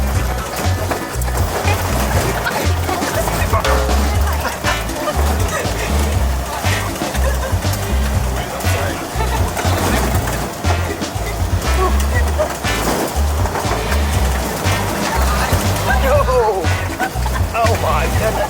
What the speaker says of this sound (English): you get a songthaew, one of these little vehicles that takes you up the next steep step